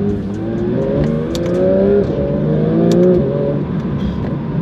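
A Porsche 992 GT3 RS on its stock exhaust is revved repeatedly, the engine note rising and falling in several loud, close pulls with a steady idle beneath. No one speaks.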